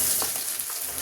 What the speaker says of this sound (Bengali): এখন আমি এখানে আদা রসুনের পেস্ট দিয়ে দিচ্ছি 2 চামচের উপরে।